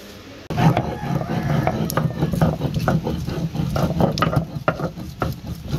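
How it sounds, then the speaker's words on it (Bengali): Almonds, cashews, poppy seeds and raisins are ground together by hand, making repeated close scraping and grinding strokes in an uneven rhythm. "এইগুলো সবটুকু আমি একসাথে বেটে নেব এখন"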